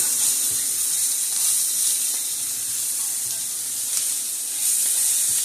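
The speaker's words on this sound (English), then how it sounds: "Then I'm going to add in my broth, slowly but surely." Broth poured slowly into a hot grain-free roux in a pan, giving a steady, bright sizzle and hiss that runs the whole time. Faint stirring and soft clinks sit under the sizzle.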